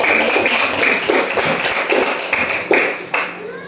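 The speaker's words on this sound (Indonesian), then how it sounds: "tepuk tangan untuk kita semua" Children in a classroom clap their hands in a steady, rhythmic pattern of crisp, even claps that are fairly loud and close and continue throughout.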